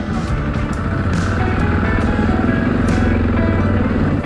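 Dirt motorcycle riding a muddy forest trail in spring, engine held at half clutch, a steady loud close putter with rapid rhythmic pulses and brief clattery bursts throughout.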